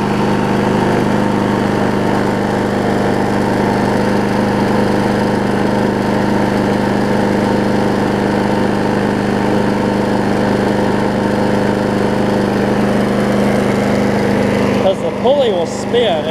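A Troy-Bilt self-propelled push mower engine runs steadily at close range, a loud continuous drone that ends abruptly near the close, with no talk over it.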